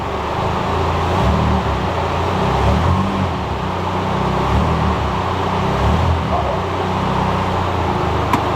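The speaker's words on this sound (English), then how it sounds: "We got the top speed Pro 1 exhaust in there. She sounds good." A car fitted with a Top Speed Pro 1 exhaust system idles steadily with a deep, constant rumble, close by and loud throughout, with no clear revs.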